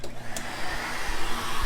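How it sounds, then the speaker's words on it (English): A workshop vacuum runs in a tool-making shop, a steady broadband whooshing drone that holds at moderate level for a couple of seconds, with no talk over it. "Turn on that vacuum."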